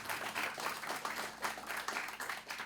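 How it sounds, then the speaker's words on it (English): Audience applause for a performer at a West Virginia music event, a soft, steady patter of many hands heard from a distance with no voices over it. "Please give a round of applause for her"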